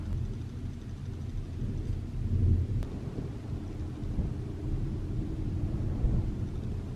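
Thunder from a lightning storm over the island of Samos, a deep, loud, steady rumble rolling on for several seconds with a brief sharp crackle partway through.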